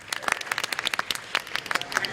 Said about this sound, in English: Let's clap at that.